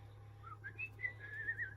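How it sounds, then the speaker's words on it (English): A faint, breathy whistled tune of short wavering notes over a steady low hum. "He's just whistling to put sound effect there."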